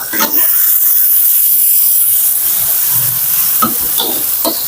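Spices and basil leaves fry in a pan while being stirred, giving a steady close sizzle and hiss with a few light utensil clinks and scrapes against the pan.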